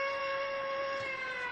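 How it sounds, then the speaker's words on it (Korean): A noon siren wails as a steady sustained tone, a long unbroken note holding level for the whole moment, heard alone and fairly faint. "정오 사이렌이 울었다."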